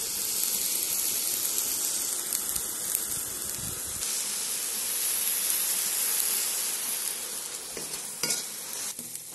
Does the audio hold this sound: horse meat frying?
yes